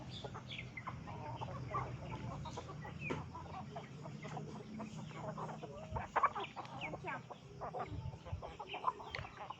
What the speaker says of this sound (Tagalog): Nag-aaway na yung mga chicken. Kulang pa daw yung pagkain nila.